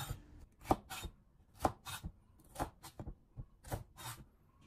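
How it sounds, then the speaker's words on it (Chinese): Knife strikes on a cutting board while a chili pepper is sliced into strips and then diamond-shaped pieces, a close series of crisp, irregular chops with short pauses between them. "去籽后再把它从中间切开，切成长条，再将它横过来改刀切成菱形片"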